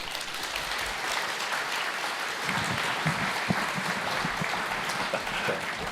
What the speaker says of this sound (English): Let's give a big round of applause for Professor Ben Abbott.